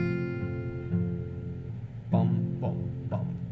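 Fingerpicked guitar, thumb and pinky alternating a low bass pluck with a high note in a steady pluck-bum rhythm, close and clear over a sustained ringing chord.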